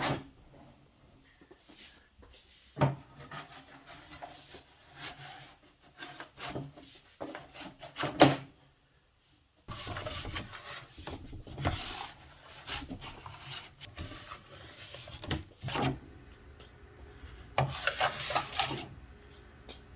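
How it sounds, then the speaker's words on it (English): A plastic scraper drags excess wax off a snowboard base in repeated rough rasping strokes, irregular bursts with short gaps between them, close and fairly faint. "Try to use even pressure as you're scraping off the wax, so you don't scrape off more than necessary."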